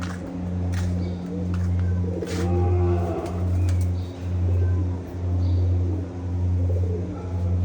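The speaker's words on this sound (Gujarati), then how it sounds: "કબૂતર છે ઘણા." Many pigeons at a cow shelter coo in a slow, repeating rhythm close by, with a low rumble and occasional faint noises around them.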